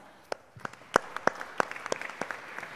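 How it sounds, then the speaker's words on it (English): Scattered handclaps from an audience at a European Palm Oil Alliance gathering, individual sharp claps spaced unevenly and fairly quiet, building slightly without becoming a full ovation. "Let's give a round of applause."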